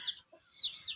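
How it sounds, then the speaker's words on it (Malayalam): A short rooster cluck, a couple of quick calls with a brief pause between, fairly faint against a quiet background. "പൂവൻ കോഴിയെ"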